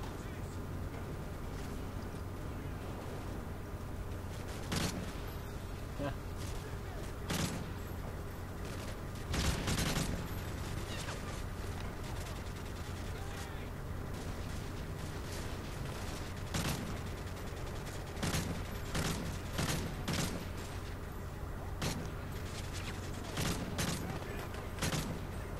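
Suppressing fire in Call of Duty: Modern Warfare 3, repeated sharp gunshot bursts scattered over a steady rumbling background, some near and loud, with voices talking in between.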